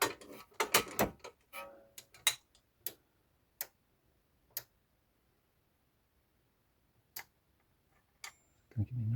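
A torque wrench clicks while an inner tie rod is tightened on a Mini Cooper S R53. Sharp, isolated clicks are spaced out over a quiet background, with a cluster of quick ticks and handling noise at the start.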